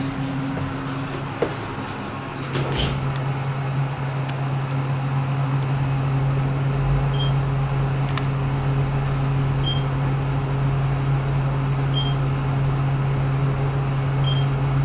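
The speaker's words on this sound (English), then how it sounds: "This is the freight elevator." A TKE-modernized traction freight elevator runs with a steady mechanical hum and low drone, a brief clunk near the start, faint periodic beeps, and no talk over the constant machine noise.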